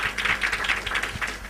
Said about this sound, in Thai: ปรบมือให้กำลังใจหน่อยนะ